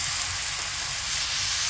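Onions and tomatoes sautéing in a pan, heard as a dense, continuous hissing sizzle that stays loud and even throughout the short stretch, with no talking.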